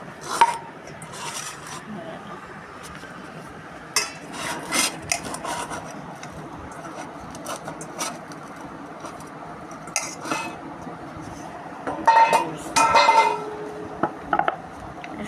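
Rested flour dough being kneaded by hand in a kitchen, giving soft, irregular rubbing and squashing sounds with occasional sharper scrapes and taps, fairly close and steady throughout.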